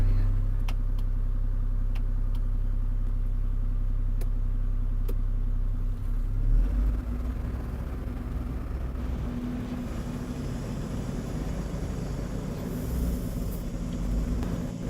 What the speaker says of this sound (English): I'll have the exhaust brake active on the second position to provide some additional retardation.